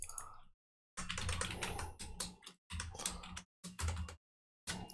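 Computer keyboard typing in short bursts of rapid close key clicks separated by brief silent pauses, faint and alone.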